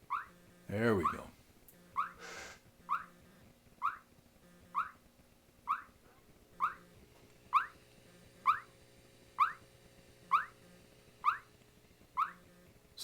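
Signal generator tone sweeping between 1000 and 1300 Hz through a Kemo VBF 8 dual elliptical filter, repeating as short rising chirps roughly once every second, after a brief louder burst at the start.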